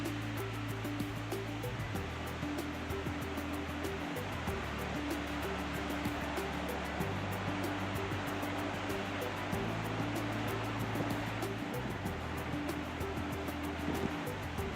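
Undine Falls waterfall in Yellowstone, a steady broadband rush of falling water heard from a distance, continuous and even with no voices.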